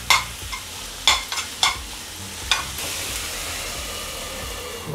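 Ground boneless chicken stirred and mashed in a hot pan for a bread snack, with several sharp spatula scrapes over a steady sizzle, close and moderately loud.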